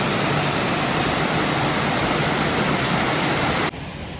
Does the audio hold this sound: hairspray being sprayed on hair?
no